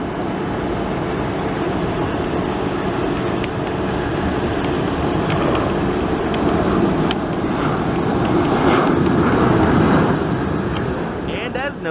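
A United airliner with large winglets takes off, giving a steady, loud, broad jet roar that swells slightly toward the end, with wind and handling noise near the microphone.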